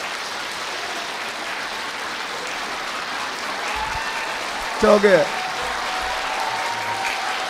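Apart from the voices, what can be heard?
audience applause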